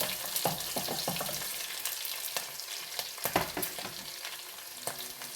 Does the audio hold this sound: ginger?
yes